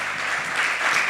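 Steady applause from a church congregation, dense clapping filling the whole moment without any voices.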